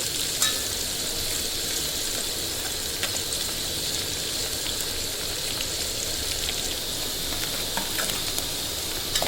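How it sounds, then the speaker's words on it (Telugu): Onions and masala frying in a pan for chicken curry, a continuous close hiss and sizzle with faint stirring, steady throughout. "ఉల్లిపాయలు బాగా ఎర్రగైన తర్వాత మసాలా వేసి పచ్చివాసన పోయిందాక వేసుకోవాలి."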